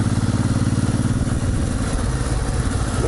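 A motorcycle engine idles close by at a petrol station in Spain, a steady low throbbing rumble with a mechanical clatter that holds evenly throughout, with no talk over it.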